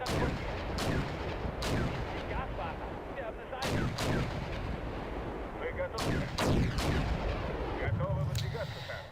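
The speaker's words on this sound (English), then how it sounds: "The artillery pieces I have are good and powerful guns." Artillery fire in the Napoleonic-era strategy game Dabrowski's Mazurka: repeated sharp cannon booms at irregular intervals over a constant rumbling battle din, loud and dense throughout.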